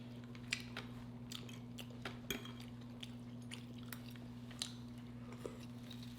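Someone chewing croissant bread from Aldi close to the mic, with soft, irregular crunchy and moist bites over a steady low electrical hum.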